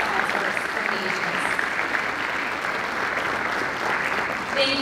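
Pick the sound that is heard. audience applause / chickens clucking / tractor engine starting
audience applause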